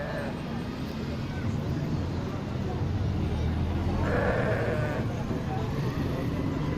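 Goats at a crowded livestock market in Lahore bleating in short calls through a dense roar of crowd noise and chatter, with a more prominent bleat midway.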